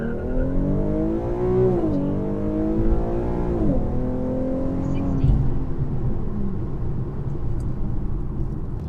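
Infiniti Q50 RWD launching hard on Firestone Firehawk Indy 500 tires, automatic gearbox: engine climbs in pitch, drops on a shift, climbs again and settles into a rumbling cruise, loud and close throughout.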